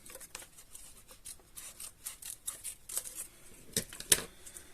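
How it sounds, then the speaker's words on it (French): Scissors cut a petal away from a flower while a bouquet is being made. A close, quiet run of small snips and rustles ends with a sharper, crisp cut near the end. "on coupe une pétale"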